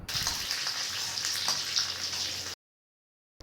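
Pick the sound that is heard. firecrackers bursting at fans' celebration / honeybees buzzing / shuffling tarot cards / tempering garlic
tempering garlic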